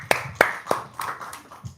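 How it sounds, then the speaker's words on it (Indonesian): A handful of separate hand claps ring out in a quick, uneven rhythm, the first few crisp and close, then softer ones trailing off over a faint murmur. "tepuk tangan dong"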